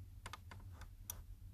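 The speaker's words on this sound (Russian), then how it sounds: "Вот, слышите щелчок, да?" A few sharp, quiet clicks from a Renault Megane 3 air conditioning switch button, spaced unevenly over a steady low hum.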